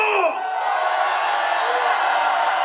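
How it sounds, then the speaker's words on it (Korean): A rally crowd protesting Japan's nuclear wastewater release roars and cheers on cue, a sustained loud wash of shouting voices after a speaker's call fades out. "동의하시면 함성 한번 질러주십시오"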